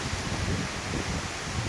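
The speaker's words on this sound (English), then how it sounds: "the winds have definitely picked up" Hurricane Dorian's wind gusts roar steadily in Halifax, Nova Scotia, a dense, continuous rush of air buffeting the microphone with slight surges and no voices.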